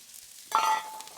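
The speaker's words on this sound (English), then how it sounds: "Then we're going to come in here with our onions, which will combine on top of that a little bit of oil." Onions hit hot oil on a hot plate, a sudden sizzle bursting out after quiet and then settling into a softer crackle, brief and close with no talking.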